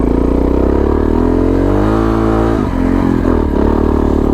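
A Suzuki DR650 dual-sport motorcycle climbing a sandy beach slope, its engine revving loud and close throughout with a steady rising drone and a brief dip in the middle, no talk.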